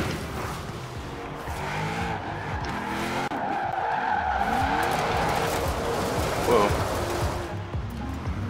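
A 1955 Chevy 150 drifts in a Forza racing game, its tires squealing loudly and continuously as the engine drones underneath, the skid rising and falling over several seconds.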